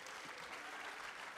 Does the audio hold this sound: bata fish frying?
no